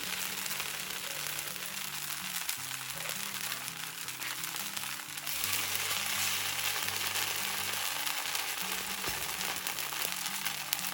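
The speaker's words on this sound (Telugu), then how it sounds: "కొద్దిగా వేగాక రెండో వైపు తిప్పుకొని రెండో వైపు వేయించుకోవాలి" Leftover-rice breakfast pancakes frying in oil in a pan, a continuous crackling sizzle that swells slightly halfway through, with no voices.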